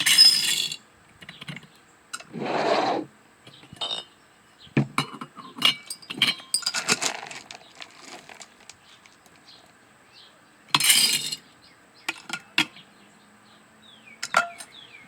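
Dry Great Northern beans are scooped and poured into glass canning jars, giving scattered rattling bursts and small clinks of beans against glass, with quiet gaps between pours.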